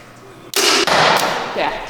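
A bow releases an arrow in a sudden sharp snap followed by a brief thump of impact, close and loud, with people talking quietly before and after the shot at an archery setup.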